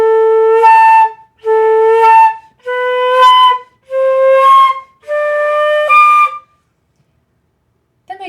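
Flute playing five separate high notes, each held about a second and forced out by blowing harder, with short gaps between them. The notes are close, loud and breathy, with no talking.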